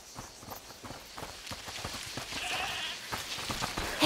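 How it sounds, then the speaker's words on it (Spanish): A goat bleats faintly at a distance in the video game A Plague Tale: Requiem, over footsteps crunching along and a soft ambient background. "Escuchad, ¿es la cabra que mencionó?"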